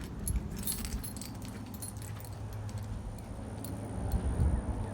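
A bunch of keys jangles and clinks at an RV while fetching them to unlock the sewage tank door, a continuous rattling over low background rumble, no one talking.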